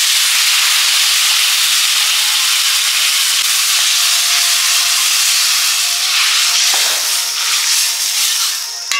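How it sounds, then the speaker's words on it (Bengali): A loud, steady sizzling hiss fills the air as water hits a hot pan of mustard paste and green chilli fish curry, holding constant for several seconds before easing slightly at the end. "এবার জল দিয়ে দেবো।"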